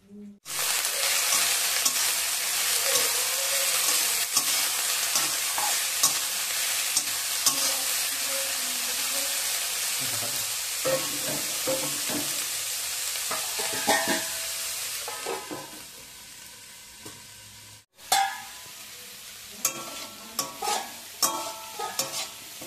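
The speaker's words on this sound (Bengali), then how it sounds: "তো এখন বাঁধাকপিটা আগে একটু ভেজে নেবো।" Shredded cabbage fries in hot mustard oil, giving a steady close sizzle with scraping stirs throughout, then quieter, sparser clatters of spoon against pan toward the end.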